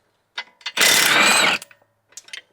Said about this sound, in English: Go and remove your bolts.